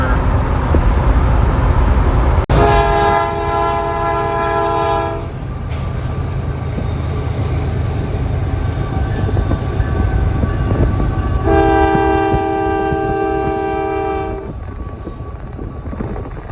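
Freight train with five diesel locomotives and the Big Boy steam locomotive near a state line, sounding two long loud horn blasts separated by a gap, over steady rumbling rail noise and a sharp bang near the start.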